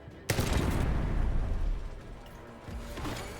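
Shotgun fire in Warzone: one sharp, loud blast opens the clip, followed by a heavy booming rumble that trails off, then another weaker report near the end.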